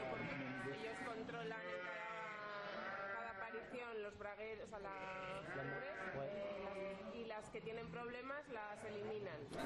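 A flock of ewes in the Aragon mountains bleats almost nonstop, with many overlapping nasal cries rising and falling close by.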